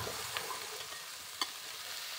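Ivy gourd pieces roasting in a pan while being stirred, a soft, low-level sizzle with a couple of light scraping clicks from the spoon.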